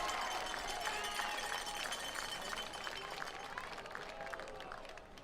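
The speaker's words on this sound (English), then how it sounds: "Fans are cheering, so." A large crowd of football fans at a college game roars and cheers continuously at a distance, a broad wash of voices and clapping with no break across the clip.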